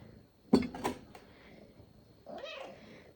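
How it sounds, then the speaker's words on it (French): A house cat meows indoors, one short close meow followed by a softer drawn-out one after a pause, with quiet room tone between. "de Mimi qui miaule parce que maman la dérange."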